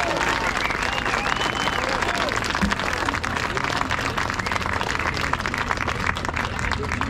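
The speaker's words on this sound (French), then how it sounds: "Merci à Alexandre Achard qu'on peut applaudir de nouveau très fort." Crowd at an anti-austerity demonstration on Place de la Bourse in Paris gives sustained, dense applause throughout, loud and continuous, with cheers and voices mixed in.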